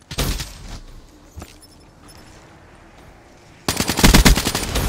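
KN-44 assault rifle fire in Black Ops 3: a loud burst of rapid automatic shots opens, a single shot follows in a quieter stretch, then another sustained heavy burst closes, with no talking.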